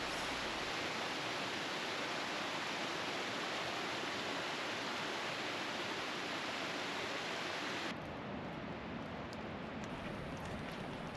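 A mountain creek flowing in the Pacific Northwest forest along Washington's Mountain Loop Highway, a steady, loud rushing wash of water that continues unbroken throughout with no voices.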